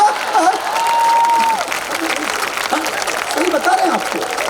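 A live poetry gathering audience claps loudly in a full, steady burst of applause that persists throughout, with a voice speaking over the clapping.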